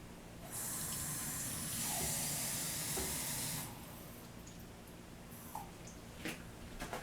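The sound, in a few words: room temperature water poured into a cup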